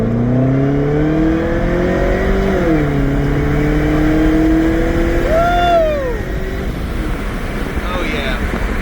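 Cadillac CTS-V fitted with an Airaid cold air intake revs hard and loud, the engine pitch climbing, dipping, then rising again before falling back toward idle, close by.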